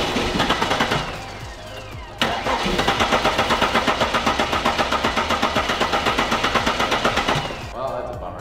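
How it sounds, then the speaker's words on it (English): The starter cranks the engine of an abandoned Mercedes S 500 after a fuel pump change, a loud, close, rapid rhythmic churning that runs on for about eight seconds with a brief hitch near the two-second mark, and the car never catches. "See if we could get it to actually start, hopefully, fingers crossed."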